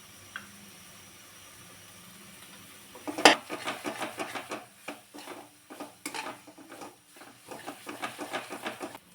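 Spices with garam masala being sautéed in a pan for a Maharashtrian bhaji amti curry: a sharp clink, then soft rhythmic stirring and scraping with a faint sizzle, close and fairly quiet, no talking.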